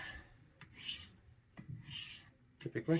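A chipped wedge straight razor honed on a stone, repeated rasping strokes back and forth in a slow rhythm, close and clear, with a brief spoken word near the end.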